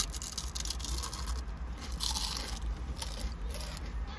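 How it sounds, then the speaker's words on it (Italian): Close, steady crunching and biting on hard, crisp lobster and pistachio snacks, a dense continuous crackle with no voices over it. "Come diceva Mira, l'aragosta, la croccantezza è fondamentale"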